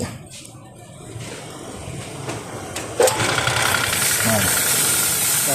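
Small motor of a power sprayer runs steadily, a constant droning hum with a sharp knock near the middle, then a louder hiss of spraying under it.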